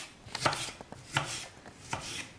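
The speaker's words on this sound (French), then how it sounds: "Alors là je vais couper finement les tomates." Knife finely chopping tomatoes on a board during a quick raw salad prep, a few separate sharp cuts spaced irregularly, close and fairly quiet, with no talking.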